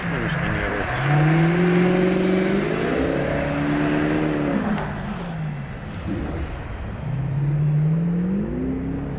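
A Lexus SC 430 or Mercedes C43 AMG engine revving up and settling back in several long sweeps, loud and fairly close, with a steady background and no clear talk.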